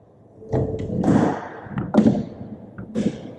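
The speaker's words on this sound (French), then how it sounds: "Alors déjà le bruit de la porte d'une SM quand on la ferme." The door of a 1973 Citroën SM shuts with a series of close thuds and clunks, including the metallic clicks of the door check straps, followed by a final solid slam.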